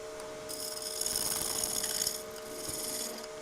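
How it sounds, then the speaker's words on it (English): A skew chisel shaving wood on a lathe during a woodturning demo, a soft rasping scrape rising and falling over a steady motor hum, quiet and close. "you can get some really nice shavings with a skew"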